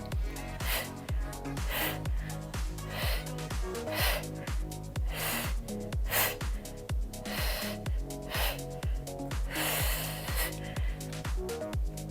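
Sharp, rhythmic exhales during a toning workout on spring-loaded equipment, puffing out repeatedly in time over steady background music.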